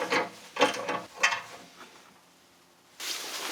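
A socket ratchet tightens a nut on a bolt while a seat adapter is installed in a Sprinter van, giving three quick bursts of clicking close by, then a pause and a fresh run of ratcheting.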